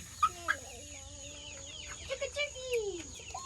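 A backyard chicken clucks in short, bright bursts close by, with a few drawn-out squawky calls in between, while a child and an adult talk softly nearby.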